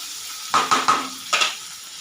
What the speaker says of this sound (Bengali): এবার দিয়েছি চিংড়ি মাছ। এটা একটু ভাজা হয়ে গেলে